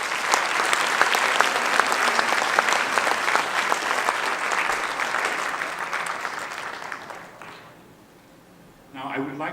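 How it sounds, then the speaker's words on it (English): A conference audience gives a sustained round of applause at closing remarks, dense clapping filling about eight seconds before fading, with a brief murmur and voices returning at the end. "So can you give a round of applause for yourself?"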